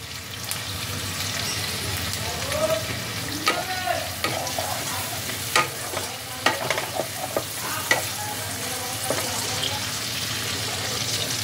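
Slit green chillies frying in a pan for a pabda fish curry, a continuous close sizzle broken by repeated scraping and knocking as a spatula stirs them, no voices.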